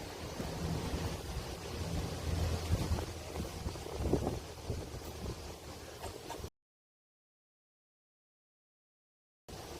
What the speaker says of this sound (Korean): 바람 많이 부는 거 보니까 또 비가 한바탕 할 것 같습니다